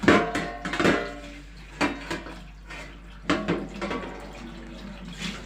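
Sausage casing being washed under a running kitchen tap, with water splashing and trickling near the microphone in short, uneven bursts as the casing is handled.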